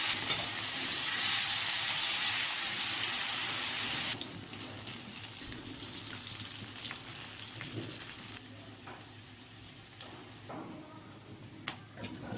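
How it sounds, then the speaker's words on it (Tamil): Masala-marinated fish frying in hot oil gives a loud, dense sizzle for about four seconds. A softer, uneven sizzle with small clicks and pops follows. "நம்ம அதுக்குள்ளே மீன் வறுத்துக்கலாம்."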